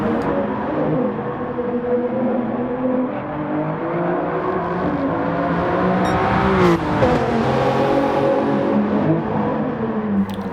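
LaFerrari race car engine in a racing video game, a steady loud high-revving roar with shifting pitch throughout, briefly swelling near the end as it pushes on.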